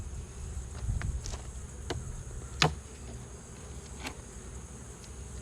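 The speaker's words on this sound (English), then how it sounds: "This isn't a super good hive, but it's got plenty of bees." Steady low buzzing of many honeybees at a hive fills the background, with individual bees whizzing past close by now and then.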